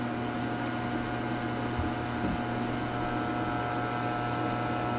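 Induction cooktop running while heating water, a steady electrical hum with fan-like noise and faint tonal whine, continuous and close, with a couple of soft clicks and no talk.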